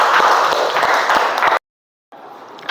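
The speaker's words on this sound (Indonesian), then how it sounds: "Tepuk tangan, kelompok 3." A classroom group of people claps for a presenting group, steady dense applause up close that stops abruptly, then resumes after a short silence.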